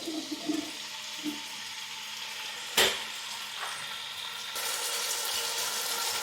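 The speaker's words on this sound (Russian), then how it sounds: "Курицу нужно будет обжарить до румяной корочки." Sunflower oil sizzles steadily in a pot as chicken pieces fry, a soft hiss that sharpens into a brief crackle and then grows louder toward the end.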